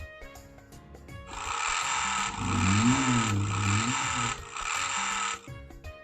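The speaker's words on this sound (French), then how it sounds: "On peut utiliser l'avion et utiliser le bruit du moteur." An airplane engine sound effect from the mBlock 5 coding software plays as a mechanical, droning buzz in repeated surging bursts, rising and falling over a few seconds.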